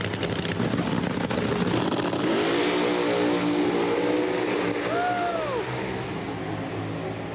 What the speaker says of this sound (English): These are Nitro Hemi funny cars and dragsters.